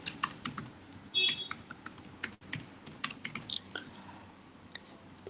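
Rapid, uneven keystrokes on a computer keyboard as a password is typed, close and fairly quiet, with a brief tonal beep partway through and no talking.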